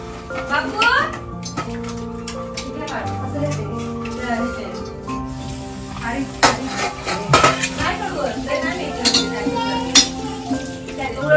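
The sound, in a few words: adding finely chopped coconut into pan while cooking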